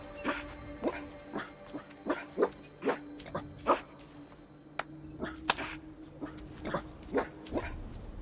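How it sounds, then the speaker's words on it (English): Several dogs in Assassin's Creed Shadows let out a string of short yips and barks in an irregular rhythm, fairly close, with a faint steady tone underneath. "Hi, doggies."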